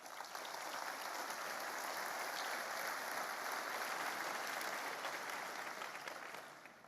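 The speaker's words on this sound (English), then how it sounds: "Let's give them a round of applause." Audience applause at the NVIDIA GPU Technology Conference keynote, a broad, even wash of many hands clapping in a large hall, sustained for several seconds before fading slightly at the end.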